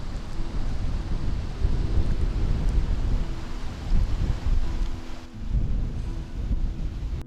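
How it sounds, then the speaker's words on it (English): Strong wind roars and buffets the microphone in a fall blizzard on Mount Assiniboine, with deep rumbling gusts that surge, dip briefly, then build again. "Super windy."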